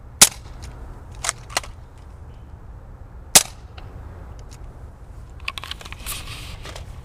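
Modded Nerf Elite Strongarm blaster with a replacement spring, rear loading, firing foam darts: a few sharp, fairly loud snapping pops spread out over several seconds, with quieter clicks and handling noise in between.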